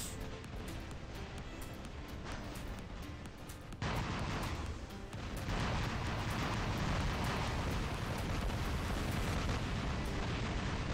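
Incoming rockets in the War Robots mech combat game: a rolling wash of blasts and rumbling explosions, thickening and growing louder midway through, with no talking.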